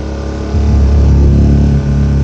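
A Hawk 250 motorcycle engine runs at high idle on choke, a loud steady close drone with a low rumble that swells slightly after the first half second, alone without talk.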